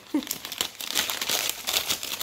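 Gift wrapping paper is torn open and unwrapped, a close, busy run of crinkling and crumpling rustles with short bursts, continuous across the moment.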